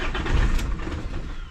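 A Citroen Relay 2.8 van engine cranks and catches, a short loud close-up burst of starter whir turning into a rough diesel idle with no talking.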